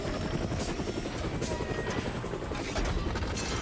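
A futuristic hybrid electric light attack helicopter flies overhead with a constant whirring rotor chop and engine whine, loud and steady throughout.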